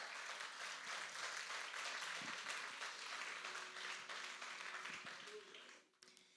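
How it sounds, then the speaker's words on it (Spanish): A church congregation applauds together in a long, even wash of many clapping hands that holds steady for several seconds and then fades toward the end, heard at a moderate distance. "Dale un aplauso al Señor."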